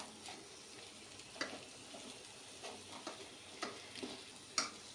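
Boiled potatoes being stirred and mixed into a mash for a fasting-style farali sandwich, heard as soft, quiet scraping with sparse clicks of a spoon against the pan.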